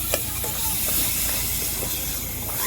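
Moong dal frying in a thick homemade gravy for a spicy paratha-style dal sabzi, giving a steady close hiss and sizzle with a few faint clinks.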